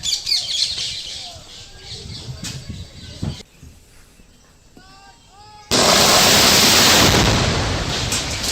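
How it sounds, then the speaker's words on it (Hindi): A quarry blast goes off near Dudi station by Sihora, Jabalpur, after a stretch of rumbling outdoor noise and a few bird squawks, ending in a sudden loud, sustained roar that slowly fades. "सिहोरा के करीब डूडी स्टेशन जहाँ ये ब्लास्ट किया गया, ब्लास्ट एक्सपर्ट की निगरानी में"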